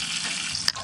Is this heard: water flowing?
yes